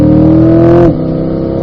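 Chevrolet Corvette engine revving hard at high pitch on a racetrack straightaway, then dropping abruptly as it shifts up to fifth gear and continues pulling at a steady, loud drone.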